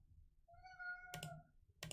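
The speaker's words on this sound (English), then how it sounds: "Y'all hear my cat?" A single drawn-out cat meow, fairly faint, followed by a couple of sharp clicks in an otherwise quiet room.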